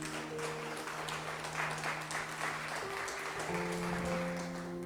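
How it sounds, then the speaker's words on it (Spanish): A church congregation claps for the Lord during a sermon, broad steady applause that is fairly faint and distant, filling the whole stretch with a soft wash of hand claps and a low sustained musical tone beneath. "¿Cuántos le pueden dar palmas al Señor?"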